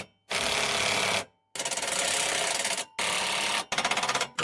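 Bolts on a golf cart lift kit for a 2007 Club Car are tightened with a power tool, giving loud, close whirring bursts with a rapid pulsing ratchet-like texture, separated by short silences.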